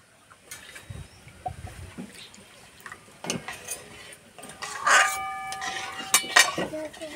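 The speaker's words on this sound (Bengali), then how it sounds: "কড়াইটা নামিয়ে দুধের সঙ্গে সুজিটা মিশিয়ে নিলাম" Semolina stirred into milk in a wok, with a utensil clinking and scraping against the pan in irregular, close bursts that grow busier toward the end.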